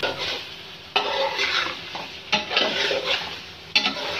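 Chicken frying with spices and chillies in a pan, loud sizzling swells as a spoon stirs and scrapes, with sharp metallic clinks of utensil against pan at regular intervals, close and without speech.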